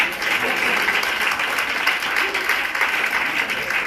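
Audience at a colloquium closing session applauds steadily, a dense, fairly close wash of clapping lasting the whole stretch with no pause.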